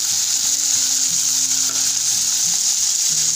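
Carne asada seasoned with salt, pepper and a splash of lime juice fries in a pan with a steady, close sizzle that runs unbroken throughout. No one speaks.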